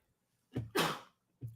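A single sharp sneeze, preceded by a quick inhale, followed by a short soft sound afterward; close and isolated against silence.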